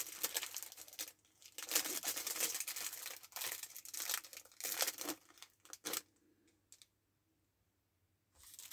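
Paper and cardstock are handled during card crafting, with close, quiet rustling, crinkling and small clicking bursts that come in irregular spurts and then fall almost silent near the end.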